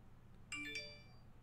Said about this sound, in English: Shut up, phone. Don't you ever make that noise while I'm live streaming.